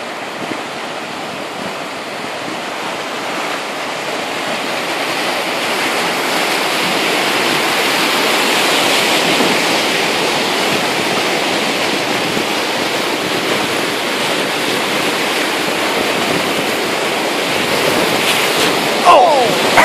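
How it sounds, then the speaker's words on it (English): Rapids of Upper Black Bar Falls on the Rogue River in Oregon, heard from a McKenzie driftboat: a steady, loud roar of rushing whitewater that swells slightly midway and continues unbroken throughout. "Upper Black Bar Falls."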